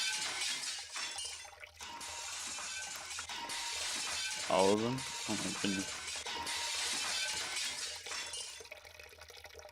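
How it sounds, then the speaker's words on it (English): Glass tanks crack and shatter in the video game Sound of Drop, heard as a brief burst of breaking glass midway through, set against a busy game soundtrack while a person talks over it. "Each time I hear the high-pitched noise of glass crackling."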